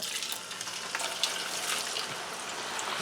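Steady broadband crackle and hiss of french fries bubbling in hot oil, continuous and fairly close, with no voices.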